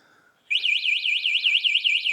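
Anti-theft alarm on a Gleeride A9 electric bike kicks in after a faint beep, a loud, close, rapidly warbling siren that wails up and down in a steady cycle.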